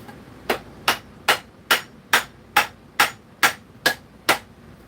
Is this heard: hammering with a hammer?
yes